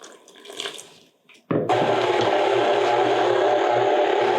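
Water runs steadily from a kitchen tap in a constant close rush while being added to pretzel croissant dough, after a brief moment of quieter handling noise.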